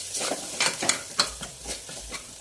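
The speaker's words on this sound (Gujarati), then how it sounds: "હવે આપણે આને ગેસની ફ્લેમ સ્લો કરી મસાલાને મિક્સ કરી લઈશું." Spices being stirred in a pan over a low gas flame for a green onion and potato curry, with scraping strokes and a light sizzle in an irregular rhythm, close and moderately loud, with no talk.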